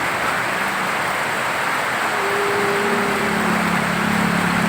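Heavy rain falls as a dense, steady hiss during a Monday duty shift in front of Barangay Guzman. A low vehicle engine hum sits underneath, with no talking.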